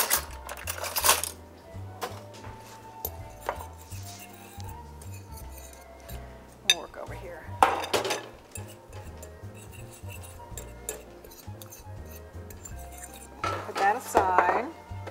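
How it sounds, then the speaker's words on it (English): A fork mixes sugar and cocoa in a dish, producing rapid clinking and tapping against the bowl in short bursts, with a voice talking between them. "And I just like to mix that up with a fork."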